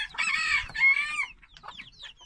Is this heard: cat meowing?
no